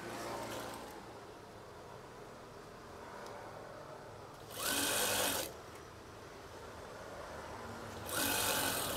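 Sewing machine stitching folded fabric for curtain tie strings, running in two loud bursts of about a second each, separated by quieter handling of the cloth.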